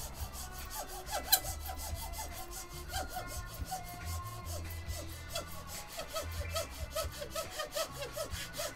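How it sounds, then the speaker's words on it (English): Hacksaw cutting through aluminum foil, a steady run of rapid back-and-forth rasping strokes at close range, continuous and fairly quiet, with no voices. "The sound of a hacksaw going through aluminum foil?"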